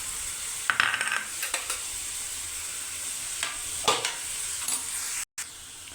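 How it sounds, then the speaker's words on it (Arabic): Fish fries in hot oil with a steady high sizzling hiss, broken by a few nearby clinks and scrapes of utensils against the pan. "وهنايا صافي هي كنقلي الحوت كما كتشوفوا"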